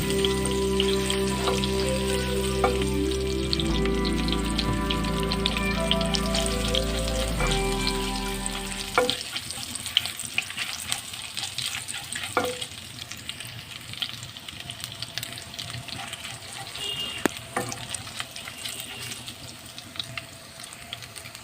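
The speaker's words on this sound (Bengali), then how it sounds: "তারপরে এখানে আমি আদা কুচি দিলাম। এটাকে আমি ব্রাউন কালার করে নেব।" Chopped ginger frying with cinnamon sticks and a cardamom pod for bhuna khichuri: a continuous hissing sizzle that runs throughout, with a low tonal hum layered over the first half and a few faint knocks later.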